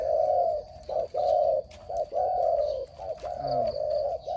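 A decoy dove coos repeatedly in short, rounded hoots, close and clear, with brief gaps between calls and a faint chirp in the background.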